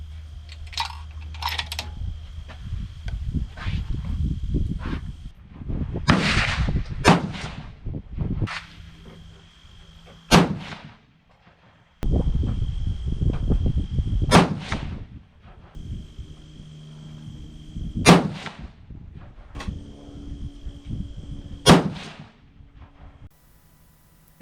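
Five 6.5 PRC rifle shots fired with Hornady 153gr A-Tip handloads over Retumbo powder at a range, each a sharp isolated crack spaced several seconds apart amid low background rumble and handling noise.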